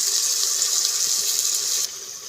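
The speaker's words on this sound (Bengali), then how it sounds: "জলটা দিয়ে দিলাম এখানে" Water runs steadily into a pan of ground spice paste for a home-style desi chicken curry, a continuous close pouring hiss that cuts off abruptly near the end, leaving a quieter background.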